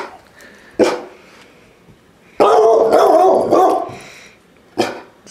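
A dog barks in three separate bursts, with a longer rough, growly stretch in the middle; close and loud with quiet gaps between.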